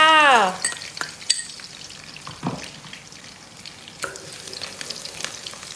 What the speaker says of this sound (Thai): ใส่กระเทียมลงไปผัดเจียวกระเทียมให้หอมก่อน